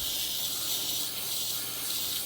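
A pump sprayer blasts cleaner onto indoor evaporator coils: a steady, close, loud hiss of spray that runs unbroken for a couple of seconds with no speech.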